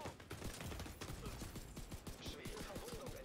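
Rapid gunfire in the video game The Division 2 rattles in a steady stream of sharp shots, loud and close, with a faint voice underneath.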